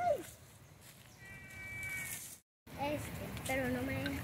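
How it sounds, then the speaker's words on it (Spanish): Several cats meow at intervals, some near and some farther off, over background murmur and chatter. "Aquí hay infinidad de gatos."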